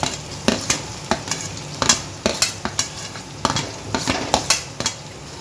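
Onions fry for pasta in a pan, a soft sizzle under repeated clinks and scrapes of a spoon stirring against the pan.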